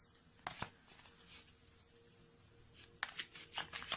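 Oracle cards are shuffled by hand before one is drawn, soft riffling and flicking bursts near the start and again toward the end, close and quiet, with no talk over them.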